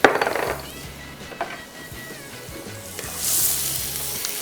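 Chopped garlic sizzles in hot cooking oil in a pan, a steady close frying hiss opening with a few sharp clinks of a utensil against the pan.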